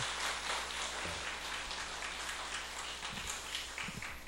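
A Sunday worship congregation in church applauds continuously, a thick, distant-sounding wash of many hands clapping with a few low thumps underneath.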